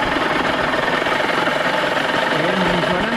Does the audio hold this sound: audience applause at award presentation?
no